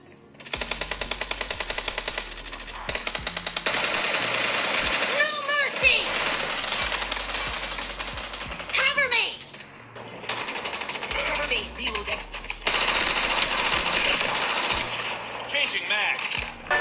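Video game gunfire plays through the speakers of a Samsung Galaxy S23 Plus, rapid automatic bursts rattling in long stretches with short breaks, loud and close, mixed with in-game sounds and voices.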